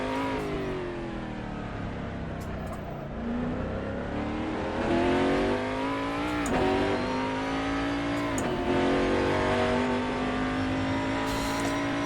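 Mercedes-Benz CLR race car in Assetto Corsa, engine revving loud and steady with rising and falling pitch sweeps as the throttle is worked, a few sharp upshift-like breaks, no talking.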